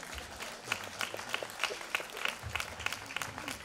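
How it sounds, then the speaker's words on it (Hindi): Scattered clapping from an audience at a cultural talk session, a sparse, fairly distinct series of individual claps in loose rhythm over a quiet room, some hands louder than others. "अपने ताली बजाना चाहते हैं ना, बजाइए।"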